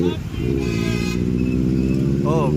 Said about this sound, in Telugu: నైస్ బైక్, డ్యూయల్ సైలెన్సర్ బాగుంది.